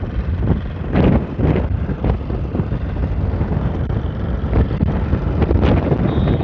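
Strong wind at Madhavpur beach buffets the microphone in a loud, steady roar with gusty surges throughout, and no voices are heard.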